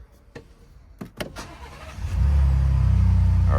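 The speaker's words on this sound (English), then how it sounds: "let's go ahead and start the vehicle" A Lincoln Navigator Reserve SUV engine starting after a few cabin clicks and thumps, cranking into a steady, loud, close idle rumble.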